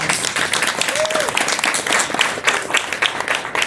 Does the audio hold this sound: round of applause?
yes